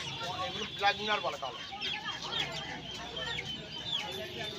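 Chickens cluck and squawk at the Uluberia hen market, where desi roosters, Australian chicks and other poultry are sold. Overlapping bird calls fill the space, with busy market chatter beneath.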